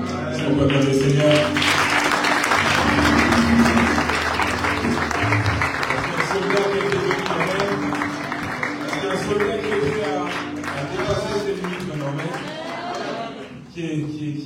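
A church congregation applauds loudly and steadily, sustained clapping with voices mixed in that fades toward the end.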